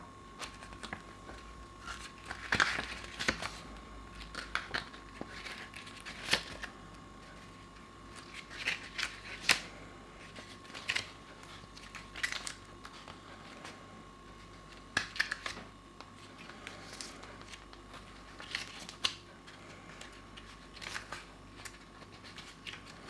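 Papery handling of a booklet and insert card from an Arrow Video disc case: soft rustles, flips and light taps scattered unevenly through a quiet room, close and faint, with a steady low hum beneath.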